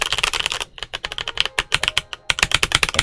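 Typing on a Royal Kludge RK920 full-size prebuilt mechanical keyboard, a fast, close run of sharp clacky keystrokes with a brief pause near the start, no voices.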